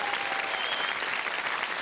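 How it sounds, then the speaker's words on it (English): A brief, steady wash of studio audience applause on the British television game show Strike it Lucky, even and moderately loud throughout the short stretch. "let's give a nice round of applause."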